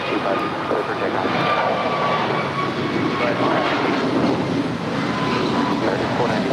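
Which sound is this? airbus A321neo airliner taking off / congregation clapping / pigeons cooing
airbus A321neo airliner taking off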